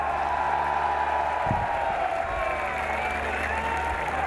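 A large outdoor crowd at a Pakistan Tehreek-e-Insaf rally in Sargodha claps and roars for Imran Khan, a steady, loud wash of applause that continues without a break for the whole stretch.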